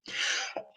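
A single close human sneeze: a sharp, breathy burst that fades, followed by a brief catch of breath.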